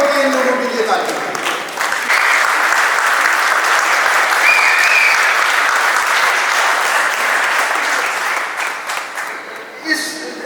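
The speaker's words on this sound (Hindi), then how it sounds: "खड़े होकर इन लोगों के लिए ताली बजाएं।" A large audience claps for several seconds at a Golden Jubilee celebration, dense and sustained at full strength before thinning and fading out near the end.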